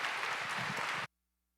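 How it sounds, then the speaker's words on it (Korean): A church congregation claps for a newly baptized member, a dense, sustained burst of applause that stops abruptly after about a second. "우리 인사하실 때에 큰 축복과 또 격려로 박수해 주시기 바랍니다."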